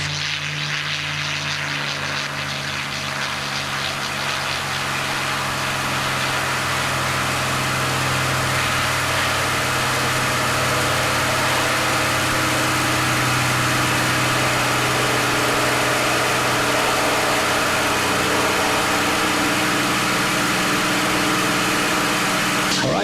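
A P-51 Mustang's piston engine roars in a loud, unbroken drone as it runs up to high power for takeoff, steady and close throughout.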